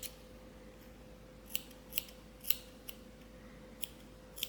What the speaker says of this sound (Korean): 여기서 가위로 정리를 먼저 한번 하겠습니다.